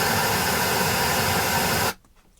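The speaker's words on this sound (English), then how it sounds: "Audacity creates for us white noise." Loud, flat white noise generated in Audacity hisses evenly for about two seconds, then stops abruptly into near silence.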